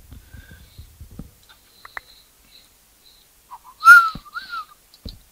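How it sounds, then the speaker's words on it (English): A person whistles close into a microphone, a short, loud, bright rising-and-falling note that stands out after quiet, scattered small clicks and soft noises. "I'm not supposed to whistle into a mic"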